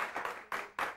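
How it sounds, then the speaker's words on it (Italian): Audience applause for tenor Valerio Cantarini, a brief burst of clapping from a modest crowd, steady and moderately close. "Questo applauso che si prolunga"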